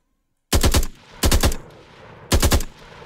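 An equipped weapon in a third-person shooter video game fires three short, loud bursts of rapid shots, each separated by a brief pause, with no talking.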